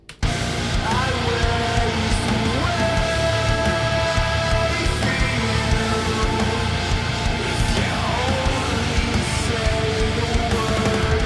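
A dense, loud heavy shoegaze chorus: thick layered guitars wash together over steady drums, with no break in sound.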